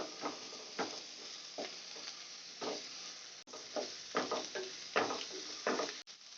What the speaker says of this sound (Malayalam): ഉള്ളീൻ്റെ ആ പച്ച ടേസ്റ്റ് മാറുന്ന വരെ ഒന്ന് ഇളക്കിയാൽ മതി.